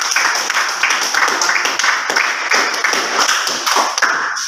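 A classroom group claps for discussion group 5 after its presentation on corrosion, a quick, bright patter of hands from a fairly close crowd of students that runs unbroken throughout.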